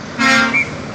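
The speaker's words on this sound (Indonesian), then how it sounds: "Di klakson." A Hino truck's horn toots once on the road, a short loud blast lasting under half a second, close by and followed by a brief higher tone as it fades.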